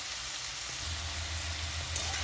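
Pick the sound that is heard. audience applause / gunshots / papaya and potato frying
papaya and potato frying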